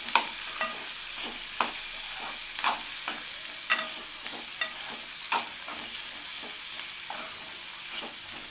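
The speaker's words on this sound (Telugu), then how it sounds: "ఇది కూడా లైట్గా వేగనివ్వాలి." Chopped tomato frying lightly in a pan for Chettinad chicken gravy, a soft steady sizzle broken by repeated light scrapes and stirs at a moderate distance, with no talking.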